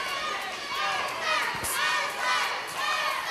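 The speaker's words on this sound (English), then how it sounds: "And this crowd is amped" An amped wrestling crowd at a SAW Wrestling match cheers and shouts in rolling waves, a dense roar of many voices that swells and eases throughout.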